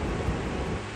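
A dense, steady roar of strong rushing water at a waterfall in Alberta, Canada, in the rain, loud and unbroken, with no voices.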